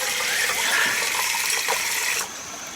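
Outdoor stream water, a little silty, flows steadily in a broad continuous rush that stays loud and even before dropping slightly near the end, with no voices over it.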